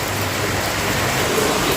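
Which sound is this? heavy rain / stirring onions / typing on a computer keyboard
heavy rain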